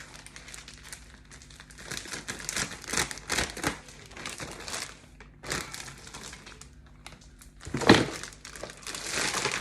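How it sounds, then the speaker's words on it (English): Plastic packaging around pork mince being cut and pulled open for Italian salami with fennel and pepper, giving close crinkling and crackling in irregular bursts with a sharper snap near the end. "So the first thing we do, cut open our pork mince."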